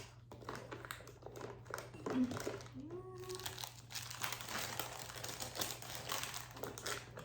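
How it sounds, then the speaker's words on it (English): Plastic pencil packaging crinkles and crackles in quick, close bursts as it is torn open, with a steady low hum underneath and brief faint speech. "So I'm gonna open these pencils and place some in the cups."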